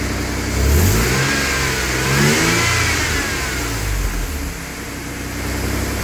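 A Jaguar AJ30 V6 with variable valve timing and Arduino-based IMT control runs close by, loudly revving up and settling twice in rising and falling swells over a steady engine drone.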